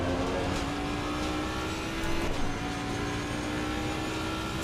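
Ford Mustang race car engine at Imola in Assetto Corsa Competizione, a steady sustained drone with a higher whine rising briefly mid-clip, loud and continuous, no talk.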